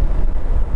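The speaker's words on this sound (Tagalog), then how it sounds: "Kaya pala malakas yung hangin dito, mga blower." Strong wind near the windmills buffets the microphone in a dense, low rumbling roar, loud and continuous for under a second.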